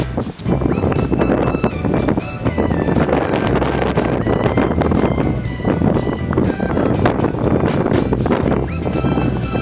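Heavy wind buffets the microphone outdoors at a picnic in Pantabangan, a loud continuous rumbling roar with gusty surges throughout and no talking.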